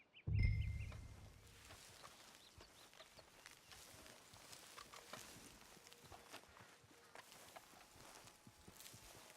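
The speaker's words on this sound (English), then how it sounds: "My horse is still following me." A horse follows on foot in Red Dead Redemption 2, its hooves a faint, soft clip-clop under quiet outdoor ambience, opening with one low thump.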